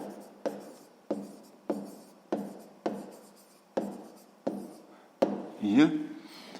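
Pen strokes on paper while working a sixth-grade maths exercise, a series of about eight sharp scratchy taps evenly spaced roughly every half second, each trailing off, ending in a longer scribbling stroke as something is crossed out; close and quiet.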